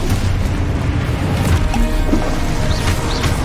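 Confringo fire spell explosions in Hogwarts Legacy, a continuous rumbling booming barrage of blasts with splashy bursts, loud and dense throughout the short stretch.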